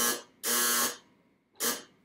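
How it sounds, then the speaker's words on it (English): A tip-over alarm on a large heat dish heater beeps in three loud, harsh electronic buzzes of uneven length, with short gaps of quiet between them and no talking. "we got a tip alarm on a big heat dish"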